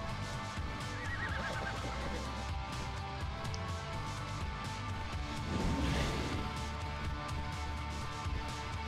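In the video game ARK: Survival Evolved, a horse gives two whinnies, one early and another louder one later, over a busy background of game sounds.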